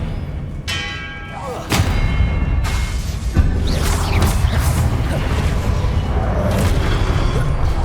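Confringo blasting curse explosions in the video game Hogwarts Legacy: a couple of heavy booms with ringing, bell-like tones, followed by a dense rumbling wash of further blasts and crackle at close, loud level.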